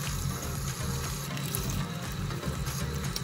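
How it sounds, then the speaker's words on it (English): Tap water runs steadily into a sink while a Rainbow High doll's soapy hair is rinsed under it, a continuous close hiss and splash with no talking. "So I'm gonna rinse her hair here."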